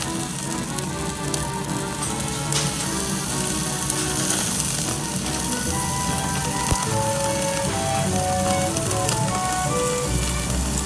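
Harami beef sizzles on a yakiniku grill at a restaurant in Kyoto, a continuous close crackling hiss with fat popping, under steady background music and room noise.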